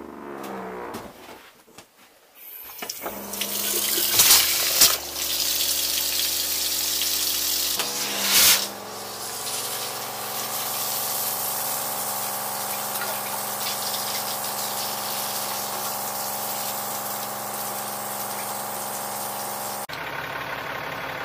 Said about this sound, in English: Run some down through the toilet as well.